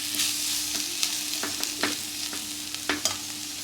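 Egg masala gravy being stirred in a frying pan, a continuous sizzle underneath with several distinct scraping strokes of the spoon at irregular intervals, close and clear with no talk.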